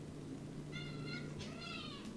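A cat meows twice in quick succession, close but fairly quiet, over a faint steady background hum.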